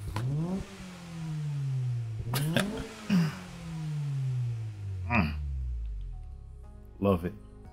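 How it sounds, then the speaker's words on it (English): Honda-style VTEC car engine in Gran Turismo 7 revving hard with rising and falling pitch sweeps, several sharp bursts and gear changes, close and loud, with a voice speaking briefly over it. "That's that VTEC engine for sure."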